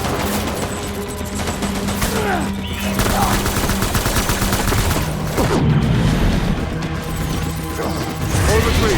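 Gunfire in the video game Death Stranding: sustained bursts of shots and crashing impacts with a continuous battle din, loud and close throughout, with shouted voices mixed into the fight.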